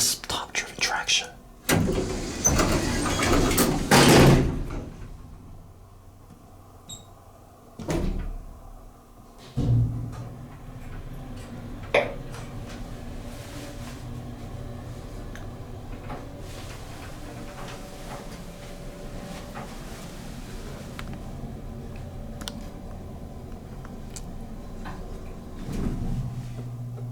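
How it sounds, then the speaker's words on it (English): A vintage Otis top-driven traction elevator motor at a law library in Dallas, Texas runs with a low, steady hum after some clunks and door or mechanism knocks near the start, with occasional ticks throughout. "We gotta hear this motor. I think this is top-driven traction."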